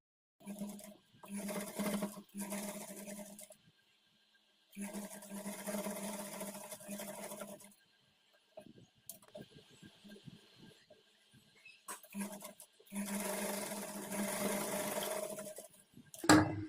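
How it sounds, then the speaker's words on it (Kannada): Sewing machine stitching a double-stitched shoulder joint on a child's peplum blouse, three bursts of steady whirring run in close, separated by pauses with faint handling noises. "ಶೋಲ್ಡರ್ ಜಾಯಿಂಟ್ ಮಾಡ್ಕೊಳ್ಳೋವಾಗ ಡಬಲ್ ಸ್ಟಿಚ್ ಹಾಕ್ಕೊಂಡು ಸ್ಟಿಚ್ ನೋಡಿ"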